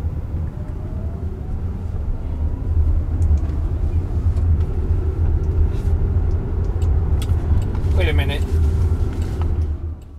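A Waymo driverless car cruises around a city block, heard from inside as a steady low road and engine rumble with tyre hum, holding even throughout and briefly broken by a faint brighter whine near the end.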